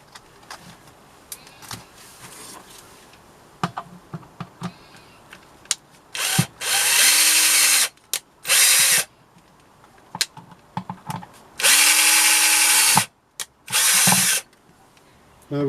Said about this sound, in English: I've drilled some extra holes in the bottom